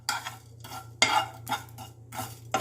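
Whole cloves, small cardamom, cinnamon and a little mace are dry roasted in a pan, stirred in several distinct scraping bursts with short quiet gaps between them, close and fairly soft.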